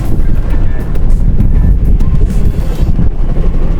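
Strong wind over the open Pacific batters the microphone from a fishing boat at a payao, a loud, continuous low rumble and buffeting with no voices.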